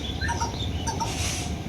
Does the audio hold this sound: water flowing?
no